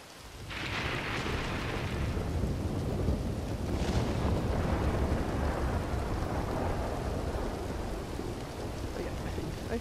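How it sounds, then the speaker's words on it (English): Steady rain pours down continuously, a dense broadband hiss with a heavy low rumble underneath, loud and unbroken throughout. "hear the rain."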